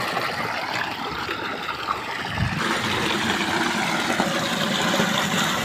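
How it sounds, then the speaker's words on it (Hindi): Water pours down steadily for bathing once electric power returns, a continuous close rushing splash with no breaks and no talking. "देखिए पानी कैसे गिर रहा है"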